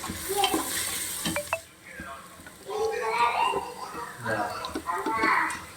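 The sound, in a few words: sautéing onions in a pan with salt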